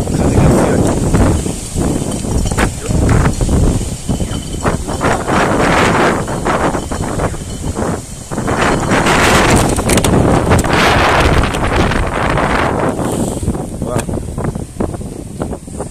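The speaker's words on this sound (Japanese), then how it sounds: "すごい強風が吹いてきました。" Strong gusts of wind buffet the microphone outdoors, a loud, continuous low roar that swells and dips throughout, with a brief lull near the middle before surging again.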